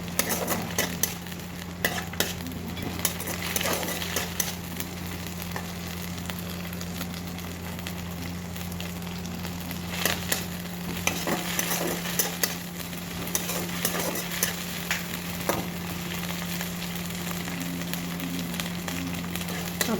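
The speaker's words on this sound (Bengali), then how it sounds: "আদা রসুনটা ভালো ভাজা হয়ে গেছে" Ginger garlic paste fries in oil with dried red chilli in a pan, with a soft steady sizzle and frequent close scraping and clinking as it is stirred, and no talking.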